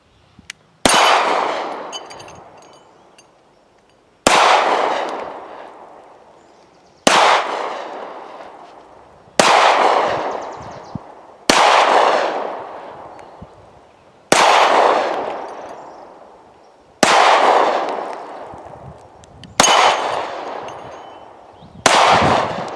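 A Taurus G2C pistol fires eight single shots at about seven yards, each a sharp loud crack with a short ringing decay, spaced a few seconds apart and evenly paced.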